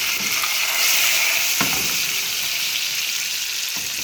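Bright, hissing sizzle of curry leaves dropped into hot oil with popped mustard seeds, crackling steadily up close, with a couple of brief clinks and no talking.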